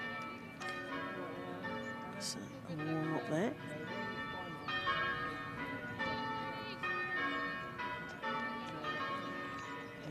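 Church bells peal in a steady, ringing cascade throughout at a cricket match, with someone commentator talking over them and crowd murmur beneath.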